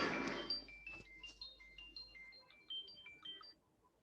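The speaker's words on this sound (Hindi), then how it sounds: "ये किसी का फोन आ रहा है बार बार।" A mobile phone rings during a spreadsheet lesson, playing a faint, tinkly melodic ringtone of short high tones that repeat in a quick pattern, after a brief broadband rustle at the start.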